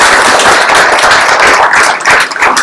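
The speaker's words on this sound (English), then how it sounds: "So let's give a round of applause for everybody here." Audience applause for program graduates at a developer bootcamp demo day, a dense, steady wash of clapping filling the room at close range throughout, easing slightly near the end.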